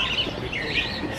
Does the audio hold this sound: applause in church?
no